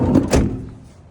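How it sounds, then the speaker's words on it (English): A minivan's rear sliding door rolls shut with a solid thunk close by, followed by a brief fading rumble and rattle as it settles. "I got your back door working to the driver's side"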